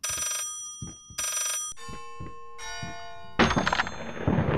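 A telephone rings in bursts in the video game Layers of Fear, two sharp rings in a row followed by metallic chimes, thuds and a louder noisy clatter. The sounds are close and no one speaks.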